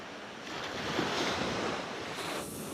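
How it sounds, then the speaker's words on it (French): Large ocean waves break along the Florida shore in a steady, wide wash of surf and wind noise that swells slightly in the middle and eases toward the end. "Regarde cette sacrée vague."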